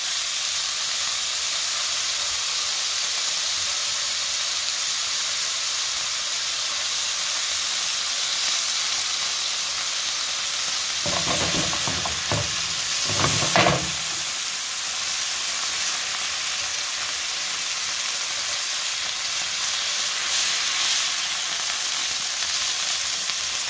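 Thin cut steak frying in a pan, giving a steady loud sizzle and hiss that runs throughout, with a brief burst of louder crackling partway through and no voices.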